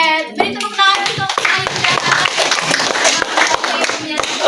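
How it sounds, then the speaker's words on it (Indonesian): Students clapping in a classroom during a microteaching lesson, a dense run of close, sharp handclaps that continues steadily, with a few voices mixed underneath. "beri tepuk tangan untuk"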